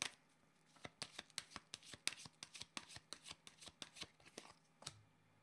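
A deck of cards is shuffled by hand for a card reading, a quiet close run of quick, rhythmic snapping riffles and taps that ends in a short soft settle, with no talk.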